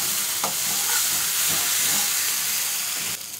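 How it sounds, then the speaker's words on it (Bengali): Green chillies and asafoetida stirred in a hot pan for a vegetarian Bengali dish: a loud, steady sizzle with soft scraping strokes of the stirrer, up close and without talk. "এবার নেড়ে দিচ্ছি।"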